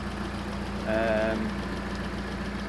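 A replacement engine in a Volkswagen Polo GTI 6N2 track car idles steadily with a low, even rumble, and a brief higher whine rises over it about a second in.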